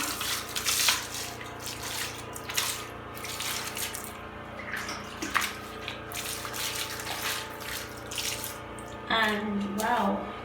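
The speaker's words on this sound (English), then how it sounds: "is rinse your leg, okay?" Water runs and splashes steadily while rinsing a leg after scrubbing during a home cracked-heel remedy, with brief louder gushes near the end.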